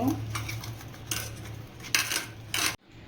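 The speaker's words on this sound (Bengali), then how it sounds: "চিনি দিলে বেগুনটা নরম হয়ে যায় এবার আমি ভালো করে মাখিয়ে নেব" Eggplant pieces tossed with salt, sugar and turmeric in a bowl make bursts of close clinking and scraping, several rough rustling strokes against the dish before an abrupt stop.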